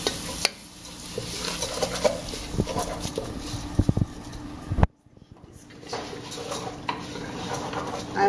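Rice coated in ghee being stirred in a pot for kitchari, close scraping and sizzling with utensil clinks, a brief hush midway, then stirring resumes; faint talk.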